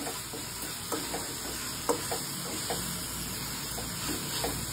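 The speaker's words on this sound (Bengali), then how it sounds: "মশলাটাকে ভালো করে মিশিয়ে নিচ্ছি চিকেনের সাথে।" Spices, coriander powder and green chillies are stirred into raw chicken for a tomato chicken dish, giving faint soft scrapes and dabs under a steady background hiss.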